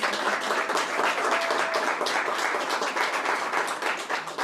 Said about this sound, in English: let's give all these women a wonderful round of applause.